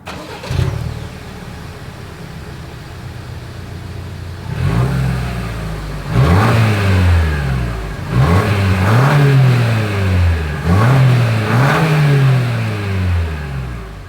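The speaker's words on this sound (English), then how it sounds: "As always, here is that exhaust clip." A 2025 Lexus RX 350 idles low, then revs repeatedly in rising and falling surges, a loud, close exhaust note blipping about four times.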